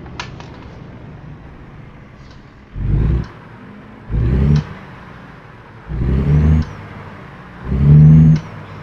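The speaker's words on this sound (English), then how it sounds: "Warming the truck up." Idling truck engine in American Truck Simulator warming up, with four separate throttle blips that swell into deep, loud rumbles and then drop back to a low idle between them.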